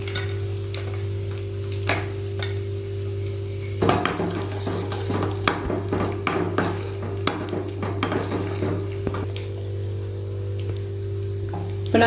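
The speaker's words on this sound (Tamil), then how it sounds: "சிம்மில் வச்சு நான் முந்திரி பருப்பை வறுத்து எடுத்துக்கிறேன்" Cashews and raisins frying gently in ghee over a low flame, a soft steady sizzle beneath intermittent close clinks and scrapes of a spoon stirring in the pan, with no one speaking.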